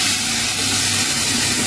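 Tomatoes hitting a pan of garlic browned in ghee with vinegar for Egyptian fatta, giving a loud, continuous steamy sizzle and hiss that stays even throughout, with no one speaking.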